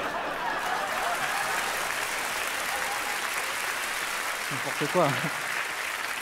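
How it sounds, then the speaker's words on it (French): An audience applauds steadily as a dense wash of clapping, with a voice speaking briefly over it near the end. "Ils sont contents, ils applaudissent"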